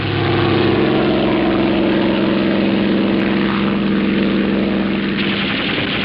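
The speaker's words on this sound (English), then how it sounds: "A German warplane is instantly ordered out." A German warplane flies with a steady, loud propeller-engine drone that holds constant throughout, close and continuous, with no voices.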